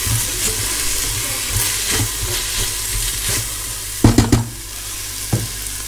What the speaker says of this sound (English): so that's the meat just about browned up, so I'll get them onions in